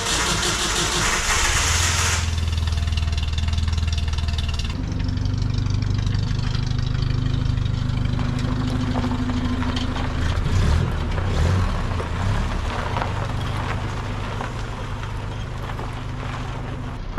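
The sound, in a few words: vehicle engine starting and idling to warm up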